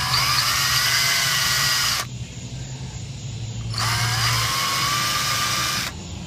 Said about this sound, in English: I'm going to drill these 2 holes